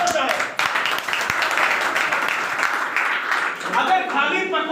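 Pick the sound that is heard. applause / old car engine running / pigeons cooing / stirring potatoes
applause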